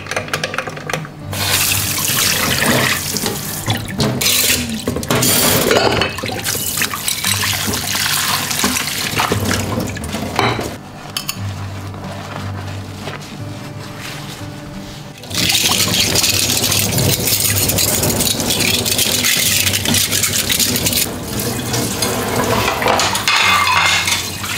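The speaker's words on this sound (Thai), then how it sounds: "โหวันนี้เวรเราล้างจานจานกับถ้วยก็เยอะซะด้วย" Running tap water and clinking plates, bowls and cutlery while washing up at a kitchen sink, a continuous busy clatter that briefly softens midway before the water surges louder again.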